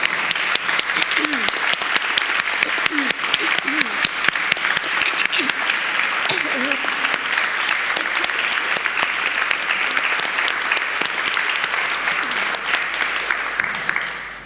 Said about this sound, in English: give me one more round of applause as the rest of the teams stand up